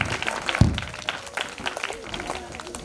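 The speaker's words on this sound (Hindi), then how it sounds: "बहुत ही शानदार, जोरदार तालियां।" Audience clapping at a Republic Day program at a public school, uneven and mixed with crowd noise and a sharp thump near the start, a lively but not very dense patter under general hubbub.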